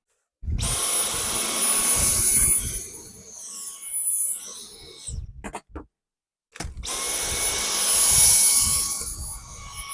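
A Dyson V10 cordless vacuum cleaner, a warranty replacement body, runs with a loud, steady high-pitched whir. It cuts out briefly near the middle, gives a few short stuttering bursts, then starts again at full strength.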